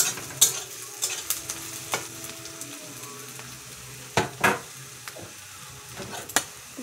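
Onions fry in a pan while a spatula stirs them in sharp, irregular scrapes and taps over a low continuous sizzle, close and fairly loud.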